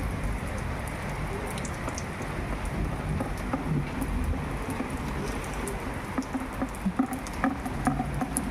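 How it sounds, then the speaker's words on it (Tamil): Steady rain pours during a thunderstorm at a Kerala village home, a dense continuous patter on surfaces with scattered louder drops and no voices. "ஒரு வழியாக மழை பெஞ்சிருச்சு."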